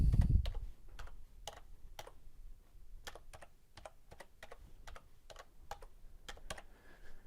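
Someone types a password on a computer keyboard, a series of light, close key clicks in an irregular rhythm, with a soft thump at the very start and no talking.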